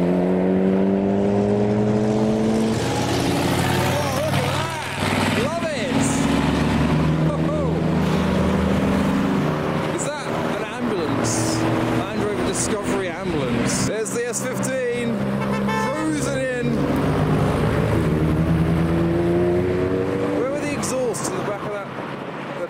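Cars pulling into a car show, including an olive green arrival following a turbocharged Civic, with engines running loud and continuous, revving and rumbling close by, and a voice talking over them.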